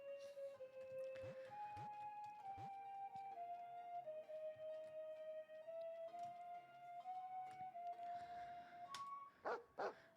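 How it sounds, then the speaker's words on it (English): Dog barking outside a village house in the video game Wagotabi, game chimes and tones throughout, with a burst of short barks near the end, faint overall. "His house has a dog outside."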